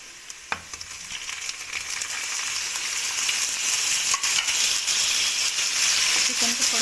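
Chicken frying with onions in a pan, a steady bright sizzle that swells louder as pieces go in, with a few sharp clinks of a utensil against the pan early on and someone talking over it.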